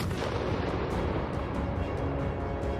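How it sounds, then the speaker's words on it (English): An FPV drone strike on Russian soldiers in open front-line terrain sets off a sustained, loud, roaring blast with rumbling bursts that fill the whole stretch. "The explosion took effect immediately."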